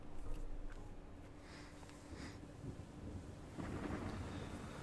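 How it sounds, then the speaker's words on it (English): Thunder rumbling over steady rain in the video game Out and About, a rolling low crack near the start and a renewed surge later, with rain hissing throughout. "a sudden crack of thunder jolts you awake"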